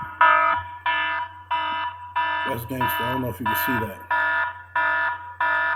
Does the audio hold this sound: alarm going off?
yes